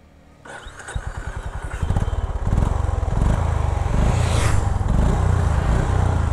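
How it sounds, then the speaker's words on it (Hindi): A Honda CB 350 motorcycle cranks with a rapid chugging starter rhythm, then fires and settles into a loud, close, steady exhaust thump with no talking. "अभी इसको स्टार्ट करते हैं।"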